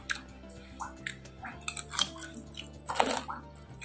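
Crunchy cassava balado crackers being bitten and chewed up close, with several crisp crunches and soft chewing between them, alongside faint background sound.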